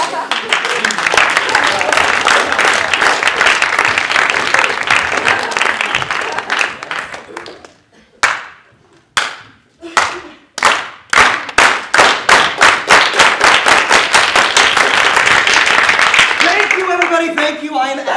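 Audience in a comedy show breaks into loud, dense clapping that thins to scattered claps partway through, then swells again into full applause, with a voice joining faintly near the end.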